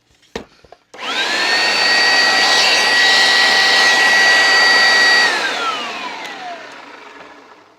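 A refurbished Oreck XL upright vacuum cleaner switches on with a sharp click, roars loudly with a steady high whine, then winds down as the motor slows.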